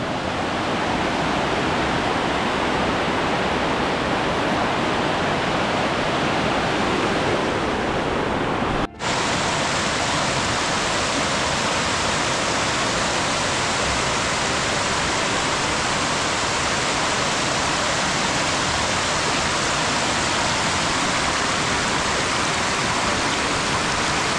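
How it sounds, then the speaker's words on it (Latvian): Waterfalls in Poland's Tatra mountains pour in a continuous, dense rush of white water, loud and unbroken throughout, with one brief dropout partway through. "Un šeit ir tie ūdenskritumi, par ko sākumā teicu."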